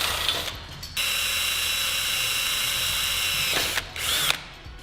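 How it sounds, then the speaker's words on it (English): A drill with a 9/64 bit bores all the way through an aluminum panel while installing an upTOP Overland scenePOD: a steady, loud whine that runs for about three seconds, with brief quieter gaps at the start and end. "continue with your 9/64 drill bit and go all the way through the aluminum"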